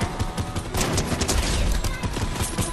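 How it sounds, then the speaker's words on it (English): Gunfire in a Fortnite Battle Royale match, dense rapid bursts of shots rattling continuously and loudly, overlapping with heavy low thuds throughout. "Poppy, I'm getting shot!"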